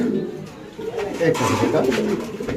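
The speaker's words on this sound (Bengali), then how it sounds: "এখানে আছে কিছু কবুতর" Pigeons at a market stall for fancy pigeons give low, rolling coos that repeat close by, mixed with other birds, while people talk in the background.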